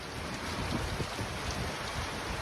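Steady heavy rain pours down with a low rumble of thunder underneath, continuous and enveloping with no voices.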